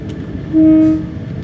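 A Lumo Class 803 electric train runs in the video game Train Simulator 2022, a steady low rumble with a brief sustained horn-like tone in the middle, loud and close.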